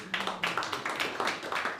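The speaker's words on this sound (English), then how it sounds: "Just give him a round of applause." Sparse clapping from a small stand-up comedy open mic audience, a few distinct claps repeating in a loose, fairly quick rhythm at moderate volume.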